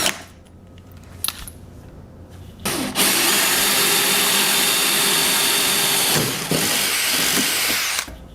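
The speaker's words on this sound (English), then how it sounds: "So we're going to remove this now and drill that hole." Power drill fitted with a self-centering bit boring a hole into a wooden nightstand: a few short clicks and bursts, then a loud, close, steady whirring grind lasting about five seconds with a brief dip midway before stopping.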